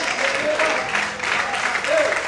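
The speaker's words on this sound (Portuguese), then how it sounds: "Você pode aplaudir e exaltar bem forte ao Senhor" A church congregation applauds, a broad wash of clapping and crowd noise with voices rising through it, loud and continuous across the moment.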